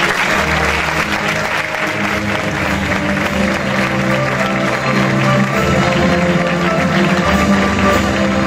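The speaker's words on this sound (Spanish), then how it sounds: "despedimos a los más pequeños con un fuerte aplauso" Loud, sustained audience applause at a tribute ceremony of a Moors and Christians comparsa, dense clapping that continues evenly throughout over a low background of crowd noise and music.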